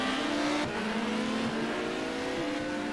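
A race car in a racing video game loses grip and spins out while racing three wide at High Speed Ring. The engine drones at a steady pitch, with brief tire-scrub shifts partway through and no talk over it.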